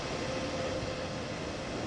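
A BR185.2 electric locomotive rolling along in Train Sim World, a steady broad rumble with a faint constant whine, heard alone at an even, moderate level.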